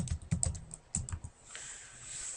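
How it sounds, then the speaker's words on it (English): A short burst of quick keystrokes on a computer keyboard as a place name is typed, close and fairly quiet, followed by a faint hiss. "We can type in here Southfield"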